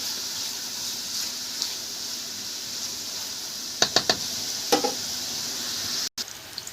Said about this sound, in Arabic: وطبعا زي ما عودتكم قشر الليمون على طول مع الكبده، وهنديها تقليبه كمان